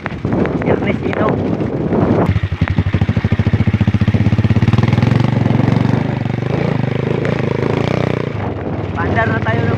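A small engine on a rural farm trail starts up partway through and settles into a steady, close, rumbling idle with a fast regular pulse, with wind buffeting the microphone and talk heard over it at the start and end.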